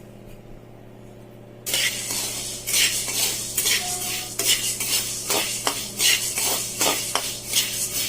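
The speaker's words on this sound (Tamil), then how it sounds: "போய் இந்த மிளகு வறுத்து எடுத்துக்கலாம்" Black peppercorns dry-roasting in a pan, starting after a quiet moment with rattling, scraping stirs of a metal spoon against the pan and a light sizzle, close and busy with no talk.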